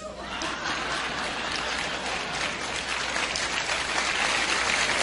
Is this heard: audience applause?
yes